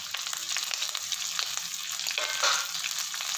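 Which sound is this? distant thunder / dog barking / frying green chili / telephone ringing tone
frying green chili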